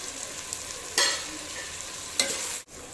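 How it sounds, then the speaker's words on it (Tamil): Tomatoes sautéing with salt in a pan for chicken biryani, a steady close sizzle with two sharp stirring scrapes and no voices. "இப்போ இதுக்கு பிரியாணிக்கு தேவையான உப்பையும் சேர்த்து நல்லா வதக்கிட்டோம்னா தக்காளியோட சேர்ந்து நல்லா தக்காளி நல்லா குழஞ்சி வந்துடும்"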